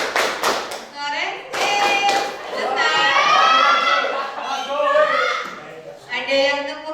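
A class of students plays an ice-breaking clapping game, clapping in quick bursts of rhythmic claps between stretches of a teacher's voice calling out words, close and fairly loud in a room.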